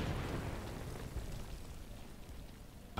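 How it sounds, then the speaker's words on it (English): A grenade explosion in a competitive shooter match, a broad rumbling blast that fills the clip with dense low-end noise and a sustained roar, fading slightly without any voices over it. "New grenade was coming."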